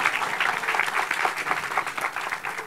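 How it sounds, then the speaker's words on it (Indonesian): Steady applause from an audience at a Kenduri Cinta Maiyah gathering, a dense continuous wash of many hands clapping at moderate distance with no voices on top. "Ya, boleh tepuk tangan."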